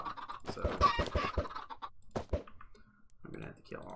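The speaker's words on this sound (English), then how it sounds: "I'm gonna have to kill all these freaking chickens." Short, choppy clucks from chickens in a Minecraft modpack come in quick close bunches, with someone talking over them for much of the time.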